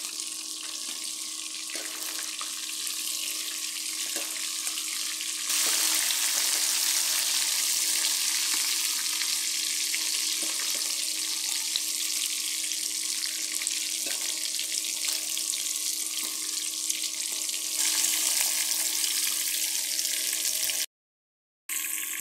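Fried fish is lifted piece by piece out of sizzling oil, a loud continuous hiss that swells and eases with brief dips. Near the end it cuts out abruptly for a moment, then returns.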